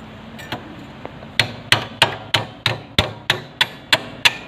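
A hammer taps a bike's main stand into place in a run of about ten sharp metallic knocks. A couple of lighter taps come first, then the blows fall at an even pace, loud and close.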